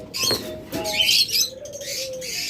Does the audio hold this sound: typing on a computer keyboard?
no